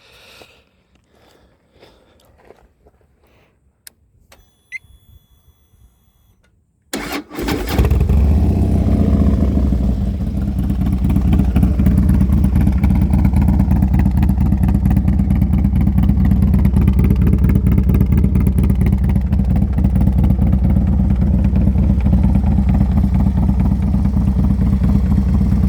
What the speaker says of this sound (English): 2016 Harley Davidson Lowrider S.